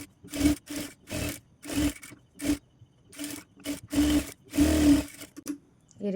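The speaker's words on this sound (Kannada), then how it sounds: "ಇವಾಗ ಕಂಪ್ಲೀಟಾಗಿ ಆಲ್ ಓವರ್ ಸ್ಟಿಚ್ ಮಾಡ್ಕೋಬೇಕು" A sewing machine stitches blouse fabric in repeated short bursts of whirring, about a dozen runs separated by brief pauses, close and fairly quiet.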